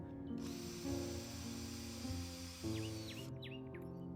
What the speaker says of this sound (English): I grab my tool and start securing our very first screw tightly from the inside of the housing